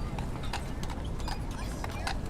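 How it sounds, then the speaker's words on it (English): Horse hooves clip-clopping on a New York City street as a horse and carriage passes during the Christmas shopping crowds, a steady near rhythm of hoof strikes over busy street noise. "I love the sound of the hoofs."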